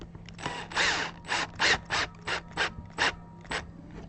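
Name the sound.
screws being driven to mount a guitar neck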